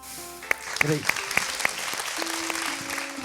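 A studio audience applauds on a televised quiz show, a steady wash of clapping with a few sharp claps near the start, while a voice speaks and tonal sounds ring over it.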